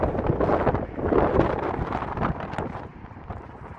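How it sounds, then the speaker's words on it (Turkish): Steady wind in Mecca rumbles and buffets a nearby microphone, a broad blustery roar that eases slightly toward the end, with no talking. "Rüzgar var biraz."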